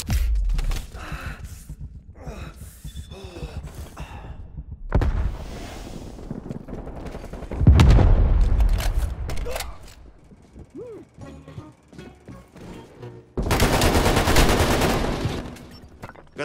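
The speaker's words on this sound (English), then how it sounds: "Enemy sniper firing." Gunfire from an enemy sniper and other weapons in a tactical shooter video game, heard as several loud bursts separated by quieter stretches of mechanical clicking and game noise.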